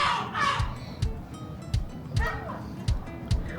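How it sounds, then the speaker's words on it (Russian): Seagulls gather on a riad rooftop in Morocco in the off-season, giving repeated harsh calls at a moderate distance over a breezy outdoor background. "тут все оккупировали чайки"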